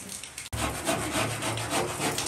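A blade sawing through plaster ceiling molding, a close, continuous rough rasping stroke that starts after a brief pause, with no voices.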